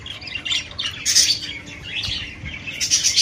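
Pigeons in a colony squawk and chirp in overlapping bursts, with some wing flaps, close and lively over a low background rumble, no talking.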